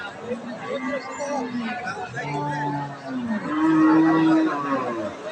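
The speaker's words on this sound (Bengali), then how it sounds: "এই যে এইখানে এই গরুটা দেখছে কাস্টমারে গরুটা কিন্তু ক্রস যাতে তবে দুধের গাভী" A crossbred dairy cow at the Aftabganj cattle market gives several drawn-out, fairly loud moos, one after another, over a steady background of crowd chatter.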